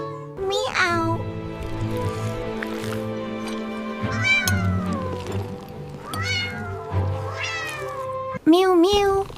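Animated 3D cats meow repeatedly in high, sweet, pitched calls, several distinct meows spaced across the clip over a soft musical background, ending with a louder burst of rapid mews.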